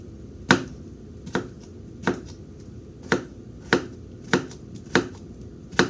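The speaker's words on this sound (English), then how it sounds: "I'm going to flip it around and cut on the side that's sloping away from me" Knife slicing through a cucumber on a cutting board for a cucumber salad: eight sharp, evenly spaced chops about every 0.6 seconds, close and clear over a low background hum, with no talking.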